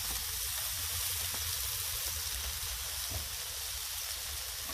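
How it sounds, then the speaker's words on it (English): Vegetables sizzle in vegetable oil on a Blackstone flat-top griddle for shrimp fried rice, a loud, even, continuous frying hiss with no voices over it. "vegetable oil on the veggies"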